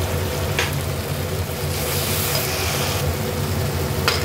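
Ground cumin and coriander powder frying with salt and tomato paste in a pan for a Bengali rohu fish curry, giving a steady close sizzle and hiss throughout with brief louder spurts of spitting.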